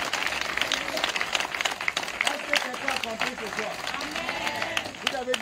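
Church congregation applauding and cheering in praise of the Lord during a sermon, with steady sustained clapping and crowd voices filling the room, mixed with a speaking voice throughout.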